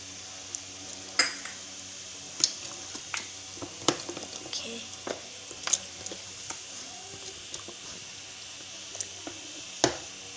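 Chicken pieces are mixed with soy sauce and chili sauce for spicy fried chicken, making quiet wet squishes and soft clicks at irregular intervals over a faint background.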